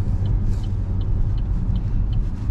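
An Opel Insignia engine holds high revs while the car descends an icy road at night in freezing conditions, giving a steady loud rumble with faint periodic ticking above it.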